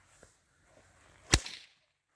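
A braided whip gives one sharp, loud crack close by, with a couple of soft swishes before it and a short ringing tail after.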